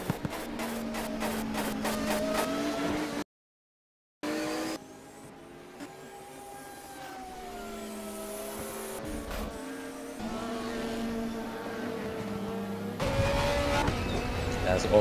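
Porsche Penske Motorsport race car in a Le Mans Series sim race at Estoril: a steady engine drone with shifting pitch, a brief cut to silence near four seconds, then rising revs near the end, under a commentator's talk.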